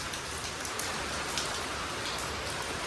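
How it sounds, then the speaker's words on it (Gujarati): Steady, dense rain pours down outdoors as a downpour sets in, a continuous even hiss of drops on surfaces with no talking. "કાયદેસર વરસાદ આવવાનું શરૂ થઈ ગયો છે"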